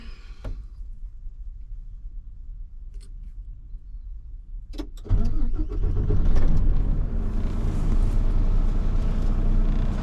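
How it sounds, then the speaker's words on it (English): A few faint clicks, then a truck's large engine cranks and catches, settling into a loud, steady diesel rumble nearby as it builds air brake pressure. "I'm going to start my engine to build up my air."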